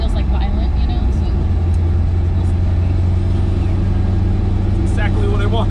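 A supercharged 1967 Chevrolet Nova drives along, its engine a loud, constant low drone heard from inside the car, while people talk over it.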